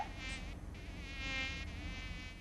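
Mosquitoes whine steadily in a close, continuous high buzz that wavers in pitch, used as a sound effect on a radio news show, with no voices over it.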